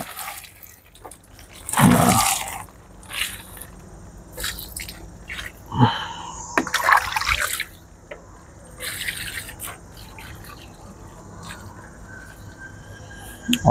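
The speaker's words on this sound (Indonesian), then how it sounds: "Kita siram begini. Nah, kita siram ya." Water poured onto plants in a dry-season garden, irregular splashing gushes and drips soaking the soil, with a person speaking between pours.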